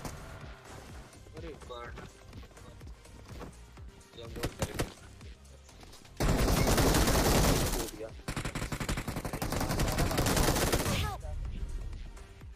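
Gunfire and grenade blasts in the battle royale game BGMI, with sporadic shots giving way to two long, loud bursts of dense firing over game sounds and a voice speaking.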